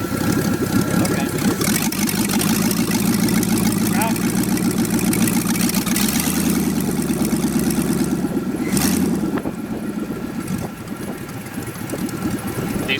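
An LS V8 swapped into a Miata-based kart idles very low at about 400 RPM, a loud, lumpy, rapid-firing rumble close by under people talking, easing slightly toward the end.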